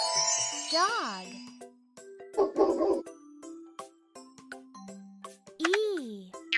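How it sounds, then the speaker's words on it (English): A cartoon dog in the Kiddopia alphabet app gives a yipping whimper and a rough bark, set among tinkling chime notes, with another whine-like yelp near the end. "Dog."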